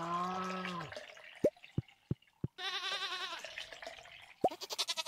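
Goats bleating in the Stardew Valley farming game, several wavering cartoonish cries broken up by short, sharp dripping plinks, all fairly close and with no talking.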